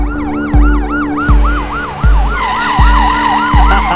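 Ambulance siren wailing loudly and close, a steady rising-and-falling electronic tone repeating for the whole stretch with no talk.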